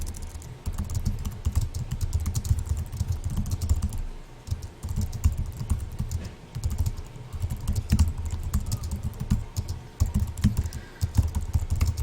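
Steady, fairly quiet typing on a computer keyboard runs continuously for about twelve seconds, with dense key clatter broken by a few brief pauses.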